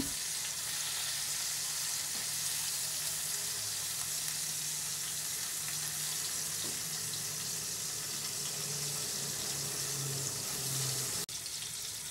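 Heavily spiced fish pieces fry in a pan with a steady, dense sizzle and crackle that holds for the whole stretch, close and fairly loud, with no voices.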